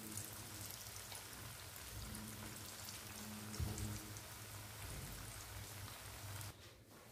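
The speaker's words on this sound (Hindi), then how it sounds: "तो ऑयल गर्म हो चुका है, अब मैं इसे फ्राई कर रही हूँ इसमें।" Whole masoor lentil tikkis fry in hot oil over a medium flame, giving a steady, soft, rain-like sizzle that fades slightly at the end.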